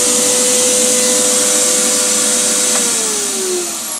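A table-mounted wood router runs steadily with a loud, continuous high whine that holds for several seconds, then its pitch sags near the end as the machine is switched off and winds down.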